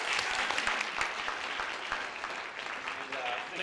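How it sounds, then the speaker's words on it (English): An audience at a theater performance applauds actors, panelists and a chorus, fairly faint continuous clapping with scattered voices mixed in. "I want to thank the actors and the panelists and our chorus with one big round of applause."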